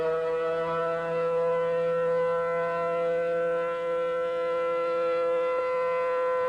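Civil defense tornado warning siren sounding across a county, a steady sustained wail with strong tonal harmonics and no talk.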